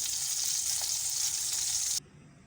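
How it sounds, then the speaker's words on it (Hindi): Beef muthiya kebabs sizzle steadily in hot oil as they are fried and turned, a loud, dense hiss that holds for about two seconds and then cuts off sharply. "इसे हमें चारों तरफ से पलट पलट के तलना है ताकि ये अच्छी तरह से पक जाए।"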